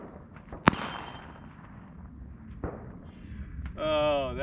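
Single sharp gunshot from a Smith & Wesson M&P15 AR pistol fired outdoors, one loud crack near the start followed by quieter background noise, a faint second report, and a person speaking toward the end.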